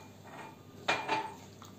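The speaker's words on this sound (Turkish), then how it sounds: "Güzel bir şekilde karıştırıyoruz." A spoon clinks and scrapes against a bowl while stirring cookie dough with milk, two or three brief, faint knocks in an otherwise quiet room.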